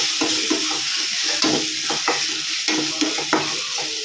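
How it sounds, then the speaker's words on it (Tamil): Masala paste with garam masala powder sautéing in a pan for a chicken gravy, a steady sizzle broken by repeated scraping stirs at an uneven rhythm, close and alone. "நல்லா வதக்கி விடுங்க"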